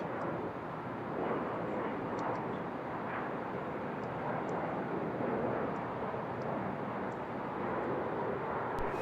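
An airliner departing Seattle-Tacoma International Airport and climbing away, a steady broadband roar heard at a distance, fairly faint and unchanging.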